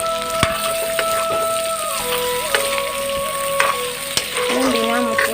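Pork pieces and potatoes with softened onion frying in a pan without oil or spices, a steady close sizzle with intermittent scraping stirs and a faint tonal hum in the background.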